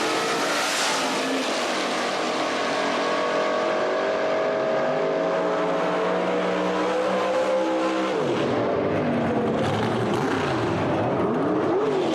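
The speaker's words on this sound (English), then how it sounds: "600 cubic inches worth of big block in the Pinto." A Pinto with a 600-cubic-inch big block engine launches down the drag strip at Beech Bend Raceway Park during an NDRL Hot Rod Reunion event: a loud, close, sustained roar that holds steady, then swoops and shifts pitch near the end, with no talk.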